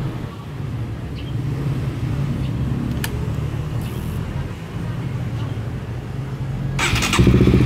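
A Honda RS150 motorcycle fitted with a two-way alarm runs with a steady, close engine idle and a few short sharp ticks, then rises into a louder rev near the end.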